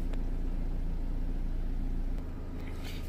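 A Vauxhall Insignia 1.8 petrol engine with a lean-running P0171 fault idles in a steady, low, even rumble. The tone shifts slightly lower near the end, with no voices.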